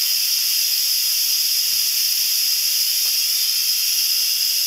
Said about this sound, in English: we want to get the steam out of there